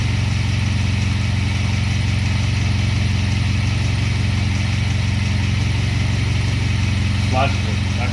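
A turbocharged four-cylinder Camaro engine runs steadily at a close idle, a continuous low rumble with a faint ticking from the timing chain or lash adjusters, and a brief voice near the end.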